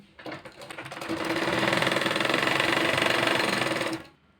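A sewing machine stitches elastic onto a salwar waistband in one steady, continuous run of rapid needle clatter close by, starting up, holding a fast even rhythm for about three seconds, then stopping.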